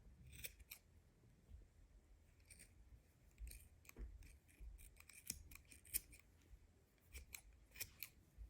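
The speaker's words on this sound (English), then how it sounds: "Now just cut these tails very close to the knot." Quiet, irregular snips of scissors cutting thick chunky yarn tails close to a knot, a series of small crisp clicks and rasps heard near and alone.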